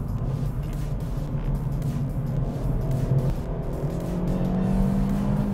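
A 2020 Kia Picanto city car accelerating hard, its small engine droning loudly and rising steadily in pitch from inside the cabin, with no talk over it.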